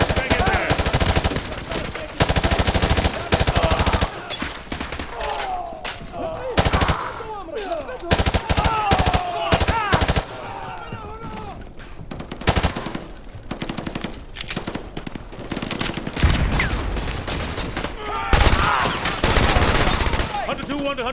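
Heavy automatic gunfire in a Call of Duty Modern Warfare 2 Remastered campaign battle at a school, with sustained, loud machine-gun bursts and fusillades throughout, and voices talking in between.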